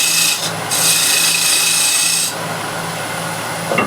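A small skew chisel cuts the outside of a wooden piece on a lathe, giving a bright, loud scraping hiss in two bursts before fading to the lathe's quieter hum.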